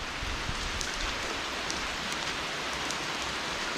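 Steady rain pours down outdoors, a dense continuous hiss of drops on surfaces with occasional louder splatters, close and even throughout with no voices.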